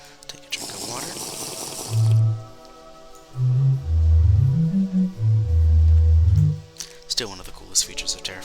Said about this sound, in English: Take a drink of water.